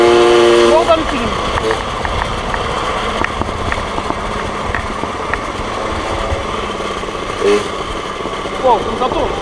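A Motobecane 89 moped engine runs with a buzzy, high rattling drone that rises and falls in pitch, loud and close, while people talk and exclaim over it.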